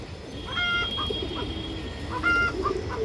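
Pigeons kept for sale, including an older red female, give a few short, clear calls that stand out over a low, steady background hum.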